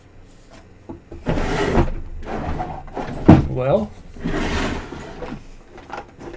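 Rummaging through a cluttered drawer in search of calipers, with repeated clunks, slides and knocks of tools being shifted, one sharper thunk near the middle, while a man mutters over it.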